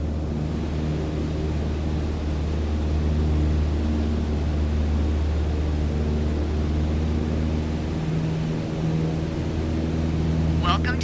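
A light aircraft engine at full throttle climbing in Microsoft Flight Simulator 2020: a steady, loud droning hum with a constant tone throughout, unbroken for the whole stretch.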